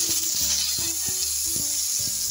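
Dried red chillies and bay leaves sizzle in hot oil with black cumin seeds for a tomato chutney, a steady bright hiss running under repeated low tones.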